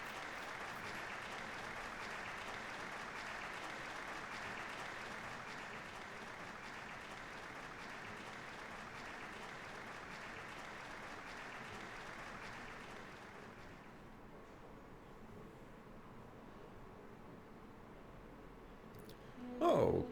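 Distant applause from a crowd in the video game Trails of Cold Steel fills the air as a steady hiss of clapping that gradually thins and fades, ending with a brief louder sound.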